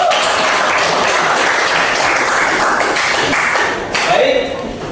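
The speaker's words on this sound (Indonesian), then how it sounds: "Sekali lagi kita kasih aplaus." Classroom applause after student groups present answers, a dense steady patter of many hands clapping from start to finish, briefly dipping near the end, with voices mixed in.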